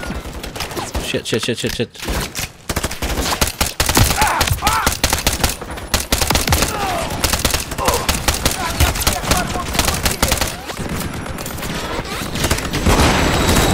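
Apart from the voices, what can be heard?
turret gunfire in video game Call of Duty Modern Warfare 3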